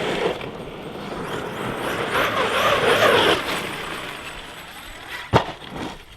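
An ARRMA Kraton 8S RC truck with a Leopard motor and Max5 ESC whines and roars as it launches over a run of dirt jumps, swelling in the middle and then easing off, with a sharp landing thump near the end.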